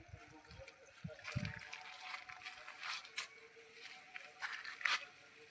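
Water is poured into the plastic bowl of a fruit fly trap set up in an outdoor cucumber field, a soft, faint splashing trickle that runs on and off over several seconds.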